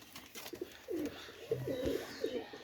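Soft, low coos from Pakistani Teddy pigeons repeat several times over faint background noise.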